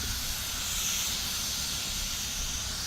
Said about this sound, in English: If you had a better paint gun, this one's a piece of junk.